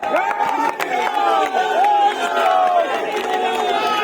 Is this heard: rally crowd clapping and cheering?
yes